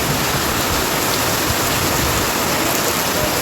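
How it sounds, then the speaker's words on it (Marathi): Heavy unseasonal rain mixed with small hailstones pours down in a dense, continuous hiss, loud and steady with no pauses or voices. "कसलं पाणी होतंय बघा. खूप जास्त पाऊस आला खरंच."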